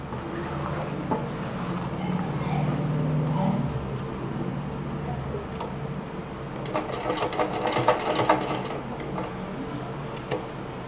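A domestic sewing machine runs continuously while stitching a frill pillow cover made from old tops, a close, even whirr with faint ticking, mechanical clicks toward the end.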